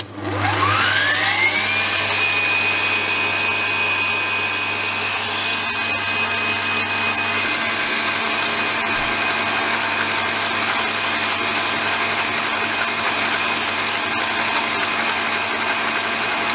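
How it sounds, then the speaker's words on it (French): A stand mixer beating buttercream spins up to high speed, its motor whine rising at the start before settling into a steady, loud, continuous drone that lasts throughout, close and with no talk. "Voilà, on a une crème au beurre qui est plutôt pas mal, qui travaille bien. Et on va repartir à grande vitesse."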